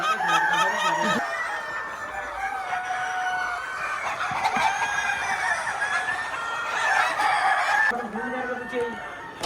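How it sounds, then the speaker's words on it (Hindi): Roosters crow repeatedly over clucking hens on a poultry farm, several loud, drawn-out calls overlapping near and far amid constant flock chatter. "ये मुर्गे भी है और मुर्गियाँ भी है"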